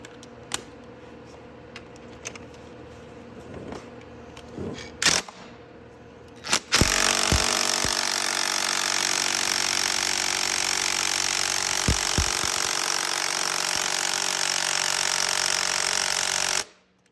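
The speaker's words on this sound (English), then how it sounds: "Okay, so I got a puller on the flywheel." A flywheel puller works on the crank of a Venom X22GT 250cc automatic motorcycle: scattered clicks and knocks lead to a loud, sustained, rattling hammering burst of about ten seconds that stops abruptly.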